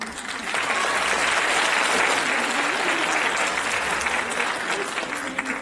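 An audience at a certificate award ceremony in Blagoevgrad applauds in a dense, sustained wash of clapping, loud and even from start to finish.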